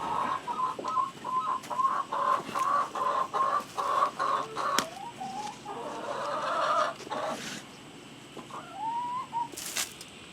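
Chickens clucking close by in short, repeated bursts, with a few rising calls near the end and no one talking.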